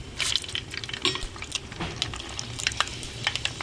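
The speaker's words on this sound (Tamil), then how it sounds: "எண்ணெய் சூடாயிருச்சுங்க கடுகு போட்டுக்கிறோம் ரெண்டு வெந்தயம் போட்டுக்கிறோம்" Mustard seeds and fenugreek seeds dropped into hot oil for a Tamil onion kuzhambu, giving close, irregular sizzling and sharp popping crackles in quick bursts over a soft hiss, with no voices.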